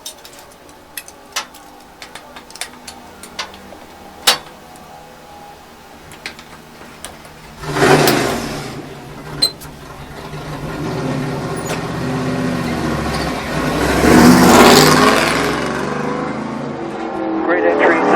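A NASCAR race car on the Daytona track roars past with a sudden loud swell of engine noise after a stretch of faint ticking, then a sustained, building engine drone follows near and loud.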